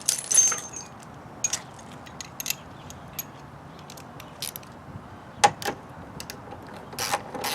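Metal tools are set down one by one beside a 2013 Kia Optima SX Turbo during a radiator replacement, making scattered light clinks and jangles, close and fairly quiet, with short gaps of stillness between them.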